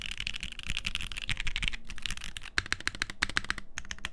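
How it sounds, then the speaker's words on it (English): Rapid typing on a 75% mechanical keyboard sitting on a desk with desk mats and shallow bump mounts, a dense run of close, crisp keystrokes with a hollow thud, pausing briefly midway before resuming. "Like the keyboard is thudding into the desk."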